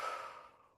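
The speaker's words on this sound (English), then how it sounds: "Breathing it in and breathing it out." A single broad, breathy exhalation from a breathing exercise, loud at first and trailing off over under a second, close to the microphone with no talk.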